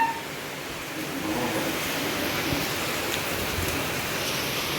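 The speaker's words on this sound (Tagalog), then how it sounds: "Yes, guys, it's raining." Heavy rain pours down in a continuous, dense hiss that stays steady and fairly loud throughout, with no voices.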